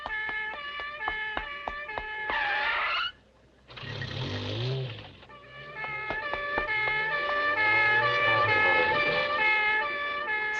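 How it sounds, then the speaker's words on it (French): A police car siren wails loud and near in warbling, sweeping tones, cuts out for a brief moment, then returns with rising and falling cycles that continue steadily. "Oh, la voiture de police,"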